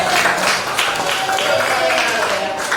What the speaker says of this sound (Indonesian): Tepuk tangan buat Rijani.